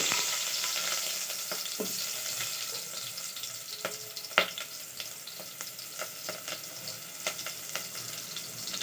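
Mustard seeds and a small onion frying in hot oil, giving a soft continuous sizzle with scattered pops and crackles, one sharper pop standing out midway, close and moderately quiet with no voices.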